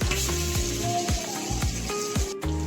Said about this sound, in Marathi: मिरची तडातड उडून राहिली.